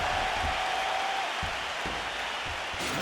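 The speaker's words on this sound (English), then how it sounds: "So the crowd voicing its appreciation after that round." Steady, dense crowd applause fills an arena after a round in the UFC 4 fight simulation, a continuous wash of clapping with no talk over it.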